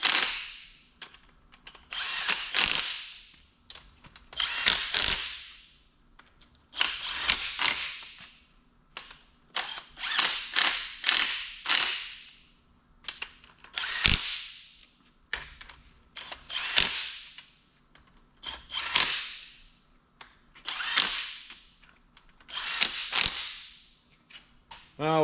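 Wrench clicking as cylinder head bolts on an engine are torqued in a circular pattern, giving repeated short bursts of ratcheting and clicking, close and fairly quiet, spaced a second or two apart.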